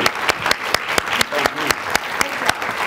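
Audience applause at a Parsons School of Design event with Isabel and Ruben Toledo: a few seconds of brisk, loud clapping with distinct close hand claps recurring regularly, and some murmured voices underneath.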